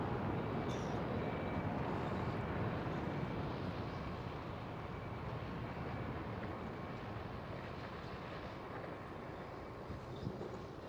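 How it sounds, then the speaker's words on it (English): A KLM Boeing 787 taking off from runway 24 at Amsterdam Schiphol, a steady broad jet roar that holds loud and constant throughout with no talk over it. "Next one up here on runway 24 is this KLM 787. Already taking off."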